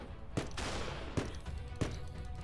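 Gunfire in a Minecraft zombie prison map: three sharp shots spaced roughly evenly over steady background noise, fairly faint, with no talk.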